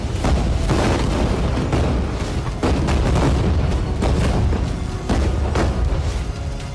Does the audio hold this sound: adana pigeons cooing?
no